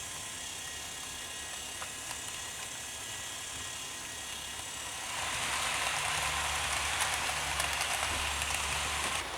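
A Bachmann D11 model locomotive runs on its track, a steady whirring motor hum with a faint metallic rattle that swells louder partway through and stays continuous to the end.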